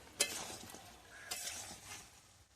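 Mutton is stirred and braised in a pan with a little of its own cooking stock. A soft sizzle bubbles underneath while a spoon scrapes and knocks against the pan, with a sharp clink near the start and another about a second later.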